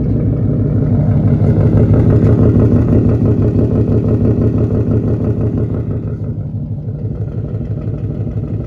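A 2018 Ford Mustang 5.0 V8 idles with its mufflers cut off, a loud, steady, burbling low rumble close by that eases slightly toward the end, with no talking.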